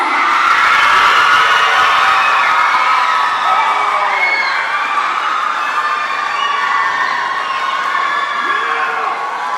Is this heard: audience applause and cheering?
yes